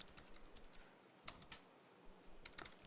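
Quiet, irregular bursts of keystrokes on a computer keyboard while entering C++ code, soft clicks in uneven clusters with short pauses between, no voices.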